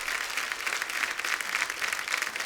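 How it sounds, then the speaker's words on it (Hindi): Studio audience applause on a Hindi comedy talk show, honouring actress Zeenat Aman and her fellow guests: a steady, even wash of many hands clapping at moderate distance, continuous and without voices over it. "एक बार जोरदार तालियां जीनत जी के लिए, अनीता जी के लिए,"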